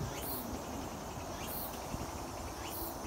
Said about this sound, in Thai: เสียงจิ้งหรีดเสียงนกร้องครับผม